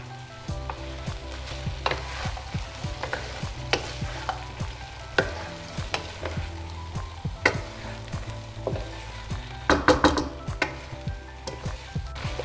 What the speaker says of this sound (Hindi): अब डालेंगे हमारी चिकन। अच्छे से मिक्स कर देंगे, ये सारा पेस्ट जो है ये चिकन को लग जाए।